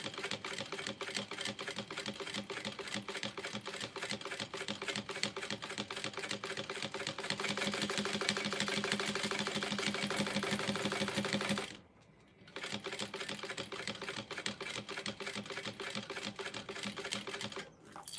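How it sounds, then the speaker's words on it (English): A sewing machine stitching a shoulder bag, running close and steady in a fast, even patter of needle strokes, briefly pausing before resuming at the same rapid pace. "you always want to back stitch and then go around and baste"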